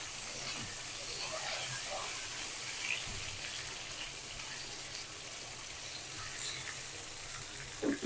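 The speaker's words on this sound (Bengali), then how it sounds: "পাতিলে সরষের তেল দিয়ে গরম করে নিলাম এখন আলুটা বেজে নিব" Potatoes fry in hot mustard oil in a pot for a Bengali catfish curry, giving a continuous close crackling sizzle with faint stirring and a soft voice in the background.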